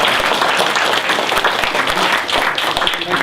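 An audience at a cyber security panel breaks into warm applause, a loud, dense burst of clapping that holds steady for a few seconds before starting to thin.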